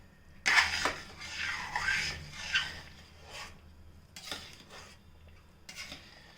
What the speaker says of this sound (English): After adding honey, just give it a stir.